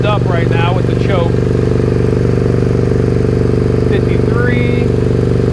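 A Suzuki SV650S motorcycle engine runs at a steady, raised idle on choke, a continuous near drone that stays loud throughout while someone talks over it at the start and again near the end.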